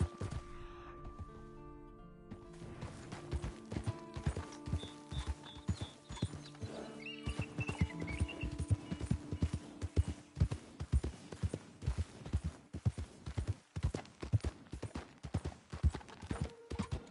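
A horse gallops in Red Dead Redemption II, its hooves making a steady, rhythmic clip-clop that grows stronger and continues throughout, with game music and tones underneath.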